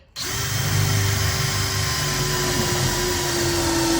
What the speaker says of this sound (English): so let's drill that in